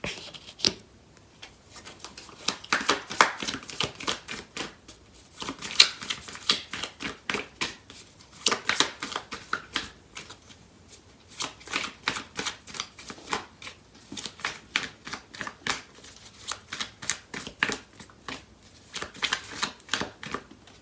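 Tarot cards shuffled by hand for a clarifier draw during a love reading: a steady run of crisp papery riffles and flutters in repeated bursts, close and fairly quiet, with no talking.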